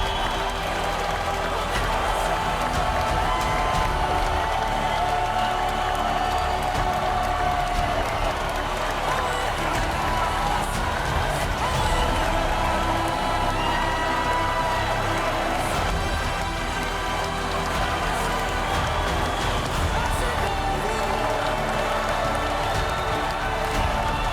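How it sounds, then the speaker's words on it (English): A school event audience gives a long, sustained round of applause with cheering and whoops, dense and continuous crowd noise throughout. "give a round of applause to the end of the Law International School"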